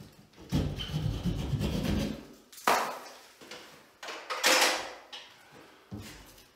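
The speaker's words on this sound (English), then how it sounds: "Just gonna cut a hole to grip it and try to pull it down." A drywall ceiling is cut open after a roof leak, making rough rasping saw strokes in uneven bursts with short pauses between them.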